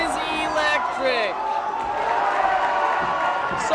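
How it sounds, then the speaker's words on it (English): A crowd at a boys' varsity high school basketball game between Acton Boxborough and Boston Latin cheers after a dunk, with loud sustained whoops and yells filling the gym while commentators talk over it. "And the crowd goes wild."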